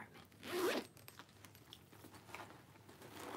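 A bag's main zipper compartment being unzipped on a Fossil bag: one quick, close zip pull near the start, followed by faint handling rustle and quiet room tone, with no talk.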